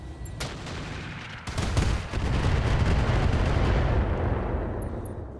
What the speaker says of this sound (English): we'll go ahead and fire cluster rounds at it